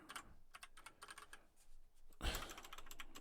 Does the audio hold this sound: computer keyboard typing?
yes